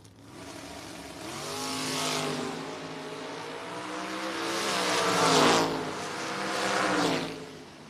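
A 1962 Nova and a 1981 Camaro drag racing down a strip: loud engines revving hard and rising in pitch through the gears, swelling to a roaring peak as they pass and then fading, with no voices.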